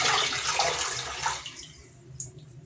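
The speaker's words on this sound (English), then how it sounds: "we're going to soak our face" Water splashing and running close by as a face is soaked at a sink before a shave, a steady wash that fades to quieter drips and small splashes.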